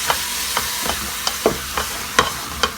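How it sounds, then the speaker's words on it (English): Ground beef stirred in a pan for stovetop chili, with regular scraping strokes about every half second over a low sizzle. "you're going to stir this around so it's nice and mixed up"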